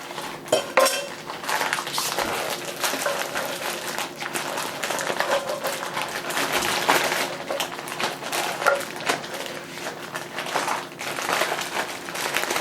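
A sharp knife at work on a rack of lamb on a kitchen surface, giving a steady run of close scraping, crunching and clinking sounds with no clear pauses and no talking.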